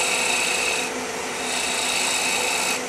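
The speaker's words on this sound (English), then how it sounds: "I'm going to use my fingernail grind gouge with the Eversar grind on it." A fingernail-grind woodturning gouge with an Ellsworth-style grind makes steady, close rasping scrapes against spinning wood on a lathe, continuous throughout with slight swells in intensity.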